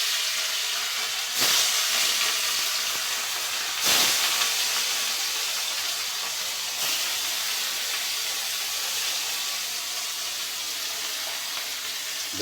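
Big belly pieces of catla fish fry in a pan with a continuous steamy hiss. A few louder sizzling surges break through the steady crackle.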